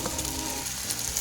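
Shakshuka of tomato, onion, green onion, spices and oil fries in a pan for Yemeni cooking, giving a steady, close crackling sizzle with no voices.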